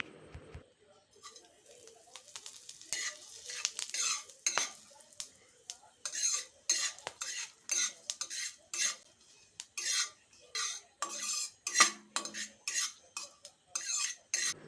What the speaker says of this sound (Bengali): গরম কড়াইয়ে এখন দিয়ে দিচ্ছি তেল ফোড়নের জন্য আমি এখানে নিয়েছি শুকনো লঙ্কা লবঙ্গ দারচিনি আর একটু জিরে